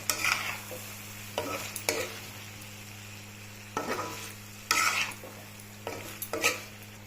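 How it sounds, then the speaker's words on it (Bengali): Paneer, potato and cauliflower being stir-fried in a pan: repeated bursts of spatula scraping and sizzling in clusters with short gaps, over a steady low electrical hum. "এখন পনিরগুলোর সাথে আলু ফুলকপি হালকা একটু কষিয়ে নিব"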